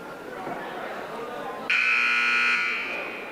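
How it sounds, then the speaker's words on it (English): A loud, flat electronic buzzer sounds for about a second during a junior varsity high school basketball game in a gym, cutting sharply over the crowd murmur and fading out. "There's a buzzer calling the teams back out onto the court."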